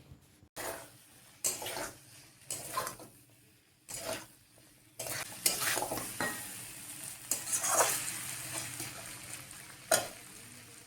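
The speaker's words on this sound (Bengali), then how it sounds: "ভাজা ভিন্ডিগুলো আর পাপড়ি করে কেটে রাখা পেঁয়াজ দিয়ে আলতো হাতে মিশিয়ে নিচ্ছি" Fried okra and sliced onions gently stirred in a pan, sizzling in bursts with spatula scrapes and light clinks against the metal, stronger and steadier toward the end.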